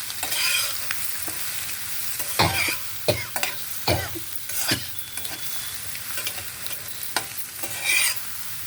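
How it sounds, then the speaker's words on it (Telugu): A spatula stirs chopped coriander leaves into a dish frying in a pan, with a steady sizzle broken by several sharp scraping strokes against the metal. "లాస్ట్లో కొత్తిమీర చందమామలు వేసి కలిపేయడం"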